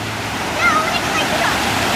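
A creek in Fires Creek, North Carolina flows in a steady rushing wash of water, loud and close, with voices speaking over it.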